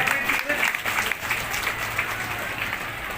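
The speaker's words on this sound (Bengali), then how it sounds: "জোরে একটু হাততালি হবে" Audience applause at a government outreach camp visited by the state agriculture minister, a steady dense clapping from a crowd that carries on evenly throughout, fairly loud and close.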